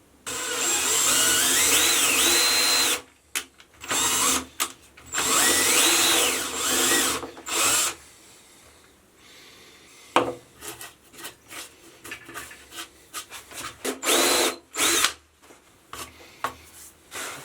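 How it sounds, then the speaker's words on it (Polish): Power drill boring into wood, held by a Wolfcraft drill guide with a depth stop on the bit. Loud sustained whining bursts come first, then a string of shorter, choppier spurts and rattles. "wykorzystam taki przyrząd Wolfcrafta do, do wiercenia. A oprócz tego na wiertło założę ogranicznik."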